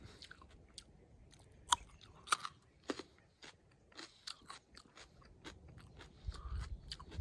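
Freshly picked little garden carrots being bitten and chewed up close, with sharp crunchy snaps followed by a run of irregular wet chewing crunches.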